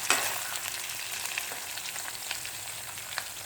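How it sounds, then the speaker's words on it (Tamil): Garlic fries in hot oil for a dried-fish thokku. The pan gives a continuous, close hiss, broken by faint scraping as the garlic is stirred. No voices are heard. "இது நல்லா பூண்டு கூட நல்லா வேகுது"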